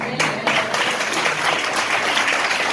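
An audience at a Christian sermon gathering claps together, a full, continuous burst of many hands that stays loud and steady from start to finish with no talking over it.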